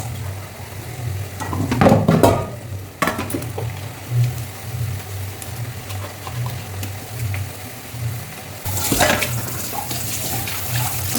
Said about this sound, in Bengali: বাসনগুলো ধুয়ে ফেলি।